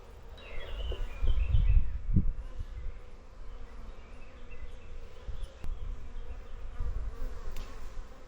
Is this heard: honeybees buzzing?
yes